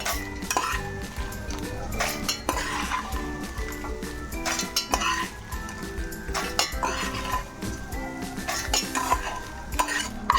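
Fried ingredients for Guntur karam podi spice powder are scraped and tipped from a pan into a mixer jar, with repeated close metallic clinks and scrapes in an uneven rhythm.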